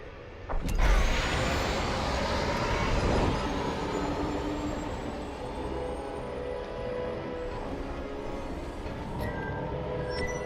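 A starfighter in Star Wars Squadrons throttles up and leaves the hangar: a loud rising engine roar swells at the start, then settles into a steady rumbling whoosh with a thin climbing whine above it.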